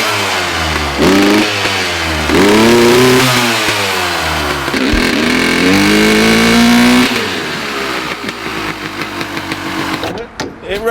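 A 1996 Honda CR250 two-stroke motocross bike fires up and runs, its engine revving up and down in loud, rising and falling sweeps before settling to a rougher, uneven idle near the end.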